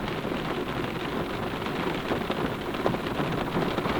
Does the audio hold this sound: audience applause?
no